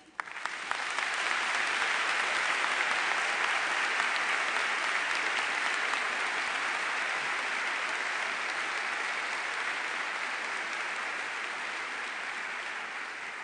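An audience applauds steadily at an education awards ceremony in a large hall, a dense, loud, continuous clapping that holds strong throughout and eases only slightly toward the end.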